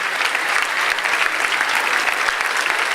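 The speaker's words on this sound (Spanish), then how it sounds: "Este aplauso es para vosotros, para todos vosotros." A crowd gives children a warm round of applause. The clapping is dense and steady, close and loud, with no pauses throughout.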